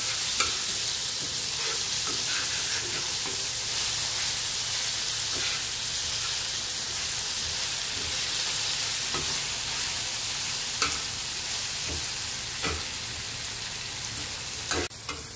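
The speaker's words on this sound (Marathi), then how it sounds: "हे बघा आता आपलं टमाटे कांदे चांगले एकत्र आपण काढून घेतले, हलवून घेतले" Chopped tomatoes and onions fry in oil in a pan for an egg paneer tawa fry, a steady sizzle running throughout with scattered scrapes and clicks as a spoon stirs them.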